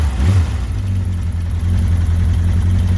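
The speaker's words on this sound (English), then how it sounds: "the engine's actually really smooth, idles really nicely, runs really well" A classic Kawasaki GPZ750 motorcycle engine, its top end recently repaired, runs at a steady idle with a deep, even low throb, close and loud, with no talking.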